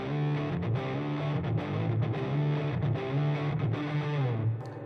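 An electric guitar plays through a Siren Pedals Airavata Distortion set to heavy fuzz, thick and bassy with little top end, as a riff of chugging notes rings out alone.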